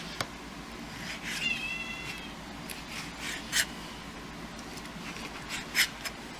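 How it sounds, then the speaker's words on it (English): A cat named Raja meows a few times in the background near dinner time, soft, drawn-out calls over a quiet room with occasional clinks and taps. "that's Raja in the background making a meow noise because he can smell and eat"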